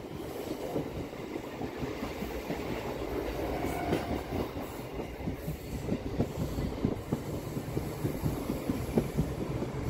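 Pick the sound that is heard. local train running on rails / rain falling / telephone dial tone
local train running on rails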